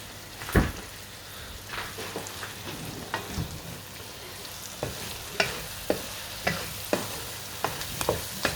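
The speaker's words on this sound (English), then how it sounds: "Give it a bit of stir" Potatoes for aloo gobhi frying in a pan are stirred, with a steady sizzle under a series of sharp spoon scrapes and clacks that come every second or so, close up and with no talking.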